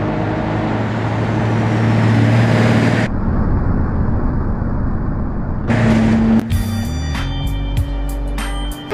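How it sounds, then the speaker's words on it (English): A Ford Explorer drives in the BeamNG.drive video game, its engine droning loudly and steadily, briefly cutting out, then returning with rising revs and sharp impact clatter near the end. "Ford Explorer"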